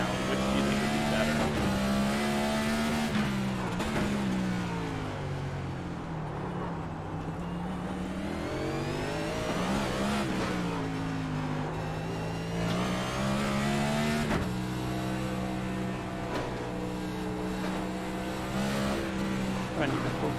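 A race car engine in iRacing on the Chicago Street Course drones loudly and continuously, its pitch rising and falling through shifts and revs with faint tire squeal, while someone talks over it.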